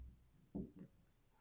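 A pen or pencil writes by hand during a math solution, giving soft close scratchy strokes in short bursts against a quiet background, without speech.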